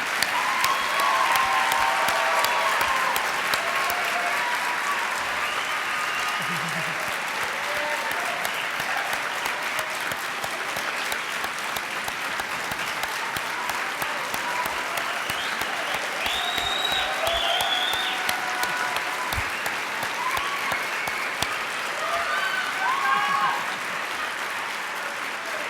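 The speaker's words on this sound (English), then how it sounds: "I let you clap for them again," Sustained applause from a large audience for new graduates at the Iowa College of Law commencement ceremony, steady dense clapping filling a big hall for a long stretch, with occasional faint cheers and voices within it.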